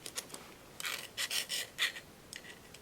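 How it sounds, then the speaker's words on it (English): Scraping old grease out of the inside of a ratchet: a series of short, close, dry raspy scrapes in uneven bursts, quiet and alone without talk. "I'm just trying to scrape that old grease out of there."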